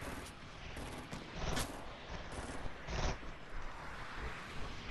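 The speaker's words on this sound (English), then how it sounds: "They're firing rockets back." Rocket fire and explosions in a Fortnite battle, with several loud booming blasts and bursts layered over continuous dense gunfire noise.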